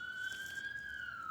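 Emergency vehicle sirens wail faintly along a New York street, one steady distant tone sliding slightly in pitch over low city background noise.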